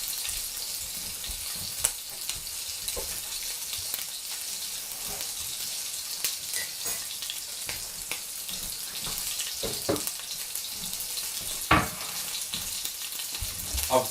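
Continuous crackling sizzle of a hot, smoking frying pan, with scattered sharp pops and clicks, close and steady throughout.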